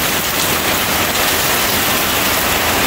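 Heavy rain pours outdoors in a steady, loud, dense wash of noise with no break, close to the microphone and free of voices.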